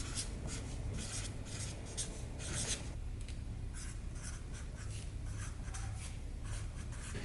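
A marker or pen scratches across fabric to label a T-shirt sleeve pattern piece, producing a steady series of close, soft scratchy strokes over a quiet room background.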